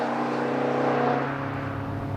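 Steady engine drone from a 2013 Maserati GranTurismo Sport while driving, with a continuous low hum and whir from inside the cabin, fairly loud and unbroken, rising slightly toward the end.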